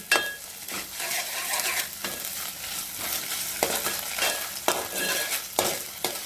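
Onion and ginger-garlic paste sautéing in a pan for a spicy prawn curry, a steady sizzle under repeated scraping and stirring strokes with light clinks of a spatula against the pan, close and fairly loud throughout.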